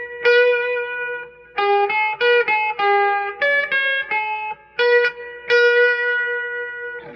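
Electric guitar played through a Seymour Duncan convertible amp with spring reverb tank and a hand-wound pickup, a sequence of clean, ringing chords and notes in short phrases with audible reverb tails, no talking.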